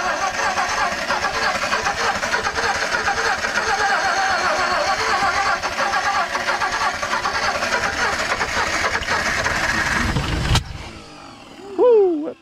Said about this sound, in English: Woo, that thing backfired then.